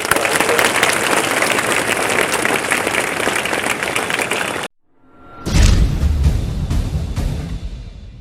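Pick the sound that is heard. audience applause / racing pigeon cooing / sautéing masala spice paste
audience applause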